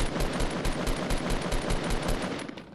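Rapid automatic gunfire in Fortnite, a steady stream of closely spaced shots for about two and a half seconds, loud and near, then trailing off.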